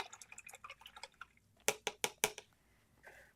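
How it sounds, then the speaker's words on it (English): An acrylic paint brush is swished and rinsed in water, with soft, faint drips and splashes, then a short burst of quick, sharper splashy taps close by. "I'm going to wash my brush."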